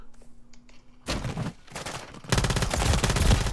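A sniper rifle and a Desert Eagle pistol fire in Call of Duty, with a single sharp shot followed by a dense, loud burst of rapid gunfire.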